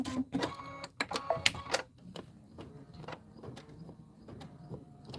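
An embroidery machine stitching out a felt leaf design makes clicking, tapping bursts and short whirring runs, busier at first, then settling into softer, regular stitching taps.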